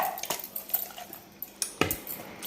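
Chicken pieces are tossed with turmeric and salt in a metal dish, making light, irregular clinks and rattles as the dish is shaken, with a few sharper knocks.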